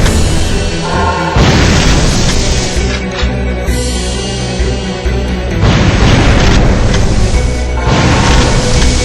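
Shotgun blasts from the Evil Dead video game on PS2, loud booming shots with sharp onsets at intervals over continuous game music and effects.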